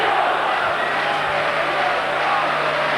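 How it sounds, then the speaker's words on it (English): Arena crowd of some 25,000 boxing fans roaring steadily for Steve Collins in his fight with Chris Eubank, a continuous distant swell of cheering with no clear single voices. "The crowd trying to lift him"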